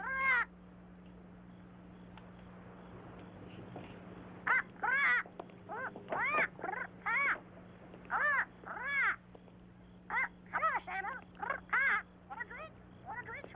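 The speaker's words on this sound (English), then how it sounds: "Put a lid on that bird." A bird in a movie scene squawks repeatedly in harsh, rapid bursts, loud and close, clustered in irregular runs over a steady low hum.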